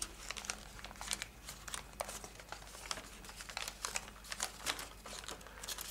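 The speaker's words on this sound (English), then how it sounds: "straighten out the paper." Paper folded and crinkled by hand while shaping an origami fox, a near, quiet run of irregular rustles and crisp crackles with no talking.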